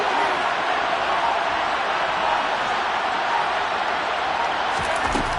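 A football video game stadium crowd roars in a frenzy after back-to-back sacks on a Lions versus Colts third and long, a dense, steady, loud wall of cheering noise throughout.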